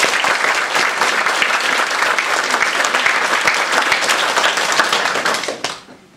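A loud, packed crowd at an evening debate on Scottish independence claps vigorously and continuously, then the applause drops away abruptly near the end.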